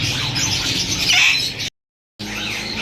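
Caged peach-faced and violet lovebirds at a bird market, a dense chorus of close, shrill squawks and chirps that cuts out briefly and then resumes.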